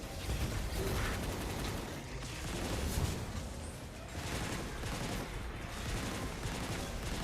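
Dense rapid gunfire in the shooter game Destiny: Rising, a continuous rattling barrage of shots and mechanical clatter filling the scene with no pauses, loud and close.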